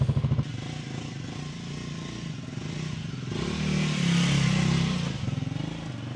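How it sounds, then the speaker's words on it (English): A scrambler motorcycle with twin exhaust pipes runs close by, its engine note steady and then swelling louder in a sustained rise midway before settling again, with no voices. "this scrambler does sound nice with them twin pipes"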